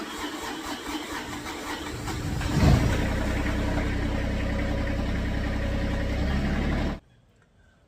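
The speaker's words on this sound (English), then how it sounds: "we are going to start the machine up" A Caterpillar 302.5 mini excavator engine cranks and catches, then settles into a steady, loud, close diesel idle before cutting off abruptly near the end.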